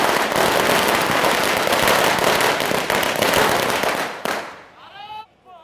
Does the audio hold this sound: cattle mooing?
no